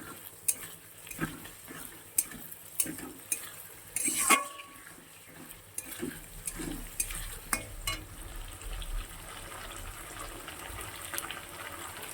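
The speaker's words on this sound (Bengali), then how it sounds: "জিরে আর আদা রসুনের পেস্টটা দিয়ে দিচ্ছি" Cumin and ginger-garlic paste fry in a pan under a quiet, steady sizzle, mixed with scattered clinks and scrapes of a spoon against the cookware and a splash of liquid. It is fairly faint, and no one talks.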